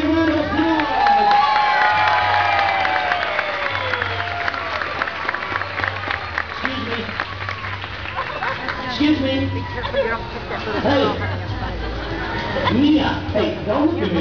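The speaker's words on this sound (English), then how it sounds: "I want a great big round of applause." An audience at a big cat sanctuary show claps and cheers for Mia the liger, a crowd of many hands with children shouting, while a presenter's amplified voice talks over the applause throughout.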